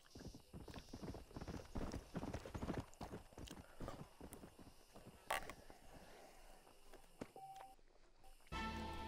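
Horse hooves clip-clop in a quick, steady rhythm in the video game Red Dead Redemption 2, loud and close at first, then the steps fade out and a short electronic tone follows.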